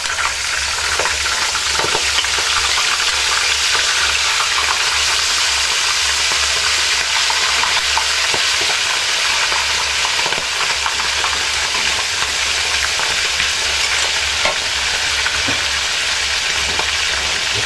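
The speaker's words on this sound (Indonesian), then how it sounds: "kita goreng ya teman-teman sekarang" Fish fried in hot oil gives a loud, continuous sizzle and hiss that lasts the whole time, with occasional faint clicks of stirring and no speech.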